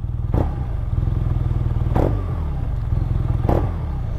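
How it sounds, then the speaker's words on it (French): A 2017 BMW R nine T twin-cylinder boxer engine idles steadily while being given three short blips of throttle, each a brief rev rising and falling back, close and loud with no talk. "Regardez, juste, je vais donner des petits coups de gaz."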